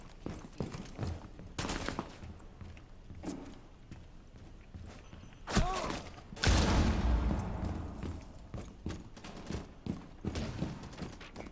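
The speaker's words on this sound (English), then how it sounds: "They're shooting at me." Gunfire in the video game Rainbow Six Siege comes as scattered sharp shots and short bursts, with one louder burst of firing midway, mixed with in-game footsteps and movement noise and occasional quiet voices.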